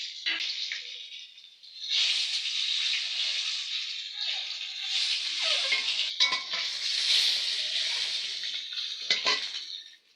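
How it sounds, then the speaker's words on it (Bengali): Eggs frying in hot oil in a wok, a bright steady sizzle with occasional scraping and clinking of a spatula against the pan, close and moderately loud. "ডিম তো আমার ভালো করে ভাজা হয়ে গেছে"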